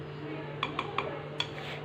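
A spoon stirs milk in a heavy-bottomed pot as it cooks down into condensed milk, giving four light metallic clinks over a steady low stove hum.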